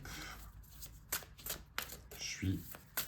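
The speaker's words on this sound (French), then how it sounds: "On va rebattre une dernière fois." Tarot cards being shuffled in a quick riffle, with a few crisp flicking bursts and a soft thump as the deck settles, close and moderately loud.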